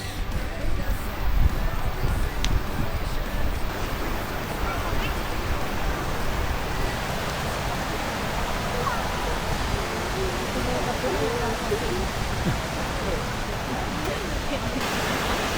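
Whangarei Falls waterfall pouring steadily, a broad continuous rushing roar heard fairly close throughout, with people talking quietly at times over it.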